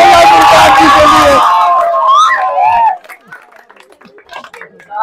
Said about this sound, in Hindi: एक दो जोरदार तालियां हो जाए मुमताज जी के लिए